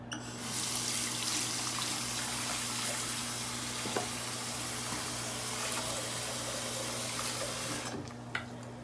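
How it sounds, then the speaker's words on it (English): Tap water runs steadily into a sink while a man with progressive supranuclear palsy rinses his mouth and toothbrush, a close continuous splashing flow with small knocks, ending with the tap shut off. "Rinse mouth and toothbrush."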